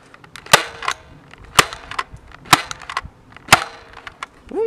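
A Nerf Alien Menace Voidcaster blaster fires darts down a hallway in four sharp, loud snapping shots about a second apart, each followed by a quick clatter, with no talk.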